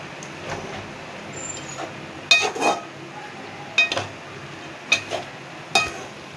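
A utensil stirs chopped palak spinach in a cooking pan and knocks against the metal in scattered sharp clinks. The taps come in short clusters over a quiet kitchen background.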